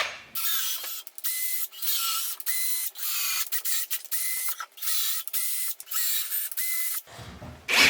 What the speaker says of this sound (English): it doesn't have the threads tapped in yet, so I need to do that now